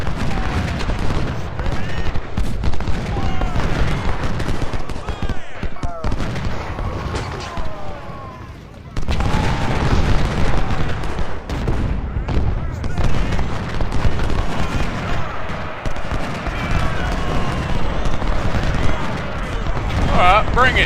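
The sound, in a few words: artillery fire in video game Ultimate General: Civil War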